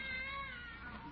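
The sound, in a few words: cat meowing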